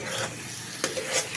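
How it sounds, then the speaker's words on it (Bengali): Garam masala is stirred into a banana flower (mocha) dish in a pan, making brief scraping and rubbing strokes over a soft sizzle, close and fairly loud, with no talking. "এবার ভালো করে এটাকে মিশিয়ে দেবে"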